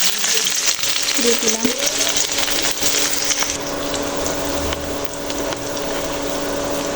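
Sliced onion and garlic fry in a hot pan, a steady, dense sizzle with occasional stirring scrapes and clatter near the start, continuing alone without talk.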